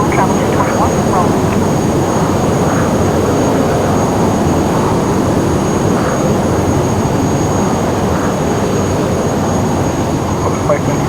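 Jet engines roar steadily during a takeoff roll in a flight simulator game, a loud continuous rumble with a high whine on top that holds level throughout.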